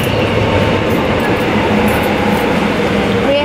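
A train pulls into a station in Korea, a steady loud rumble of rail cars and wheels filling the whole stretch, with faint voices of people on the platform beneath it.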